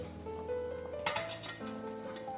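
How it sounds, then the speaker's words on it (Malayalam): Dried lemons tip into a cooking pan for lemon pickle, already holding chilli, ginger and garlic: one short, soft metallic clatter and scrape over a quiet, steady kitchen hum, with no talking. "ഇനി നമുക്ക് ഇതിലേക്ക് ഈ നാരങ്ങ ഇട്ട് കൊടുക്കാം."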